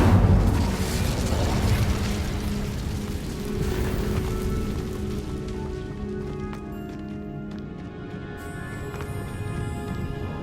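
An Incendio fire spell cast in Hogwarts Legacy, a loud whooshing burst of flame that rumbles and crackles, then fades into a ringing, shimmering magical tail over game ambience.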